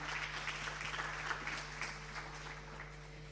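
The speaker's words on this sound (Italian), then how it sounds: "è bello sentirvi un po' più sciolti anche negli applausi" Audience applause at the Veneto Paralympic sports gala, a steady patter of many hands heard at moderate distance over a low constant hum, continuing without a break and with no voices.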